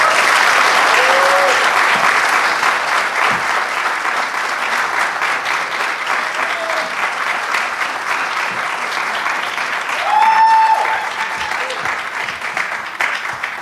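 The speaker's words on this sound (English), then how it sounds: "So why don't we give her a round of applause?" A lecture crowd at a Green Party event in Markham–Stouffville gives sustained, loud applause of many hands lasting over ten seconds, with a few faint whoops and voices mixed in.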